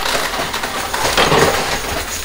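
Tumbling tower on a high-limit casino coin pusher crashing down, a dense, continuous clattering rush of chips, coins, gold bars and dice spilling and sliding for a couple of seconds, loud and close, with no voices.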